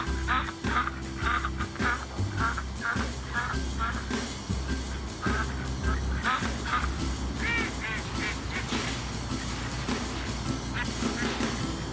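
Ducks or geese honking and quacking repeatedly at close range, a busy flock chorus over a steady background, with some speech mixed in.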